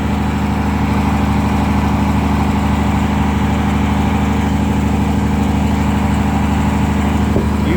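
A sawmill's engine idles steadily and loudly, a constant low droning hum with an even, unchanging rhythm throughout and no talking.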